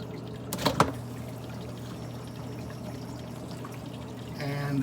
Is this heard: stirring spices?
no